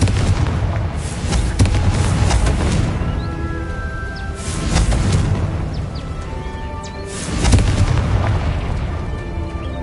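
Confringo fire spell blasts in the Hogwarts Legacy video game sound as a series of loud, booming explosions about every few seconds over a dense, rumbling game soundscape.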